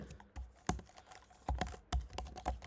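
Keys tapped on a computer keyboard while typing a short entry into a web app, in quick irregular bursts of clicks with brief pauses, close and fairly quiet.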